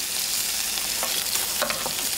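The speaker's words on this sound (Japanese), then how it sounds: "油を上からアロゼですね" Steak sizzles in a pan over medium-low heat while hot fat is spooned over it, giving a steady, dense hiss with faint scraping bursts, close and continuous without talk.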